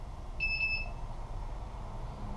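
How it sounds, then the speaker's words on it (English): A single short electronic beep tone from a hexacopter drone's flight controller arming, fairly clear, over a steady low background hum. "Mine's beeping because that's actually how I arm it."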